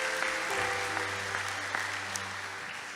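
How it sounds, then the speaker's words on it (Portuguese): A church congregation claps in praise to God during a business people's worship service, a steady wash of applause with a low sustained organ or keyboard tone underneath. "você pode aplaudir a Deus mais uma vez."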